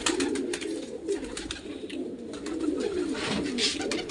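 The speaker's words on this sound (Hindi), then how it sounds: "ये देखो कबूतर दाना खा रहे हैं" Flock of pigeons cooing and murmuring steadily while feeding on scattered grain and broken roti, close and continuous with overlapping soft calls and light rustling.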